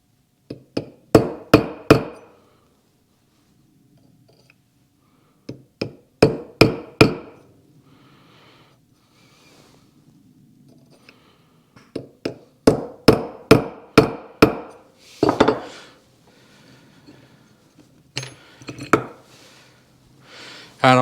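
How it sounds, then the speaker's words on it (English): Sharp hammer blows punch rivets on a motorcycle V-twin kick starter kit part, coming in quick bursts of three to five ringing metallic strikes separated by pauses, close and loud. "I'll punch a couple of more of these."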